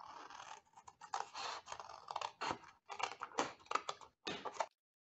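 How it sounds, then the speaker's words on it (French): Scissors cut through paper for a scrapbooking drawer organiser in a run of close, quiet snips and rasping scrapes, broken by short pauses. "on va couper jusqu'au milieu avec le ciseau"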